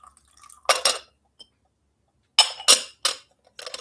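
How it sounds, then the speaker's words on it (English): Water is poured into a glass holding cloves for steeping, heard as a few short, crisp splashing bursts separated by silent gaps. "I'm going to pour some more water in here."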